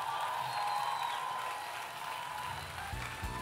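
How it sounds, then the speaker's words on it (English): Audience applause at a cooking masterclass after a chef finished a three-course meal in one hour, a steady dense wash of clapping throughout, with a faint tone and a voice coming in near the end. "Give Tregaye a round of applause"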